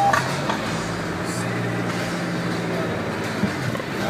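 A Range Rover Evoque pulls away on a steep slope, giving a steady, close engine and road rumble that holds level throughout with no clear rise in revs.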